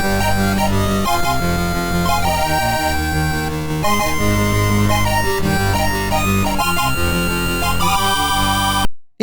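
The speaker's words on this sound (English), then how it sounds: "The CMS Game Blaster is also supported and sounds like this." Power Drift racing game soundtrack rendered by a CMS Game Blaster card: dense, buzzy chiptune chords and melody over a rhythmic bass line, loud and continuous before cutting off abruptly.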